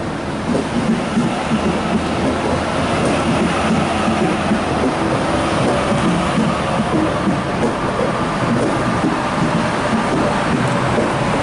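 Sydney Waratah train set A19 departing Milsons Point station on a Hornsby via Macquarie Uni service, a loud continuous rumble and rush of the train moving close by for the whole stretch.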